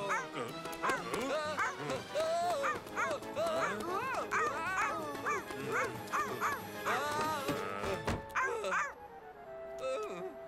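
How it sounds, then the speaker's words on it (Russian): An animated cartoon dog in a children's series about brave cars lets out a run of high yips, whimpers and little barks, close and lively, with faint voices underneath. "Вау, милая собака."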